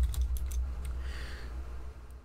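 Keys clatter on a computer keyboard in a short burst of typing, a few crisp clicks early then quieter taps, heard close and alone over a low steady hum.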